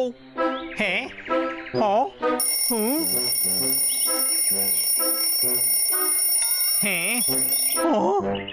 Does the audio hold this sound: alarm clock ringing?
yes